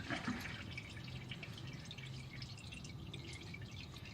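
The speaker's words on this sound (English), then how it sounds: "just let that drip out to get as much oil out as possible" Steady drips of oil falling from a Honda Accord's oil filter into a drain pan, continuous and close, with a low background hum and no talking.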